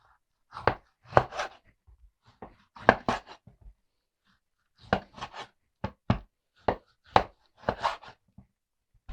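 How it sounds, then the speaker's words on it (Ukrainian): A knife chops repeatedly through firm pork fat on a board, sharp thuds in irregular bursts with short pauses between groups of cuts. "покажу, якими шматочками буду сало різати"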